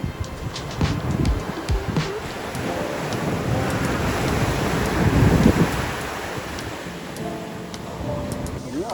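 Ocean surf rolling in with wind buffeting the microphone, a steady broad wash rising slightly in the middle, heard outdoors at sunset near the shore.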